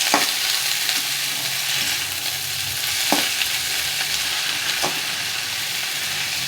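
Drumstick leaves fry with garlic, onion and chilli in a pan, giving a steady, close sizzle broken by a few soft scrapes of a stirring spoon.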